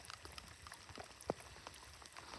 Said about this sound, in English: it's been raining constantly pretty much